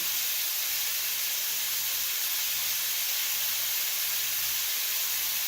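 Hibachi-style steak, rice and noodles on a hot grill give off a steady, loud, hissing sizzle that holds evenly throughout, with no talk.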